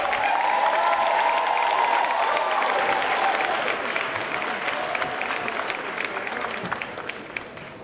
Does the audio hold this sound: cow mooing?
no